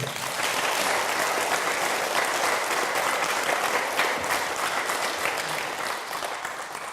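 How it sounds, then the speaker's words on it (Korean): Sustained applause from a crowd at a Buddhist dharma talk, dense clapping that stays loud throughout and fades slightly at the end. "박수 쳐주세요"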